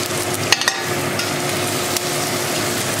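Onion, ginger and green chili fry in a pan with a steady, loud sizzle, broken by a few scraping stirs and brief clinks of the spoon.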